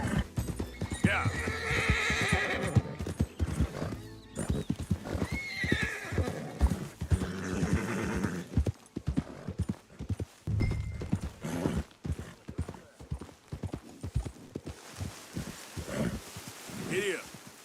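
Horse in the Red Dead Redemption 2 game clip-clops at a steady pace and gives a whinny, with a voice talking over the hoofbeats and rustling surroundings.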